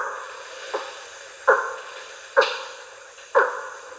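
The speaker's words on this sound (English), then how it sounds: "And hack sounds like this." Recorded putty-nosed monkey hack alarm calls: a series of short, sharp barks repeated roughly once a second over a faint hissy background.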